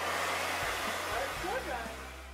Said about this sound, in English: then you start blow drying it. Start on a medium heat.